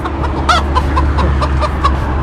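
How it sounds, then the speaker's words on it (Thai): A rooster crows and clucks close by, loud repeated calls in quick succession over a steady low background rumble. "ขันมันไก่ใช่ไหม"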